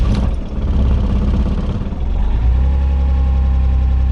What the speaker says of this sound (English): So now I will start the car and you can see how the engine shakes a lot.